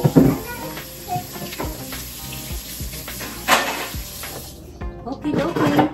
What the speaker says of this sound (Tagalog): Hugasan ko na lang sa kamay.